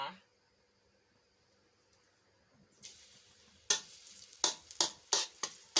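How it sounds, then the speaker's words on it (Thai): Chopped garlic dropped into a hot pan for a pork belly stir-fry, starting as a quiet hiss and then bursting into loud sizzling crackles with several sharp stirring scrapes near the end. "ใส่กระเทียมสับลงไป เพื่อเราเจียวจะได้หอมนะคะ"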